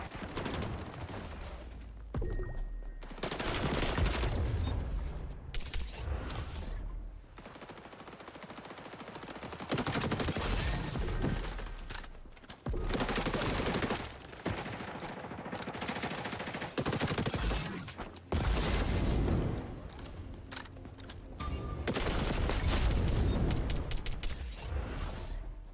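Rapid automatic gunfire from a first-person shooter game, bursts of shots crackling repeatedly across the whole stretch with brief pauses between volleys, loud and close.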